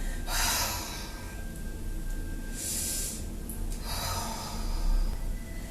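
A person exhales slowly during a home pilates exercise, producing soft breathy rushes of air, close to the microphone over a steady background hiss, with a few separate breaths spaced a second or two apart.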